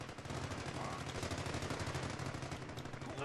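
Rapid machine gun fire in the real-time strategy game Company of Heroes, a continuous stream of fast, evenly spaced bursts at a steady moderate level, with no talking.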